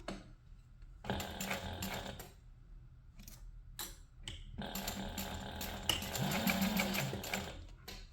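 A sewing machine bastes a quarter-inch seam on a crossbody waist bag, running in several bursts of rapid stitching separated by short pauses, close and fairly loud, with no talking.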